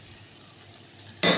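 Tofu drops into a hot pan with onion and garlic and bursts into a loud, close sizzle after a quiet moment of low kitchen noise.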